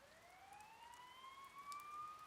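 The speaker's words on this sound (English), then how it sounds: "You hear sirens nearby." A police siren wails faintly in the distance in Persona 4 Golden, one rising tone sweeping slowly upward over soft rain-like background hiss.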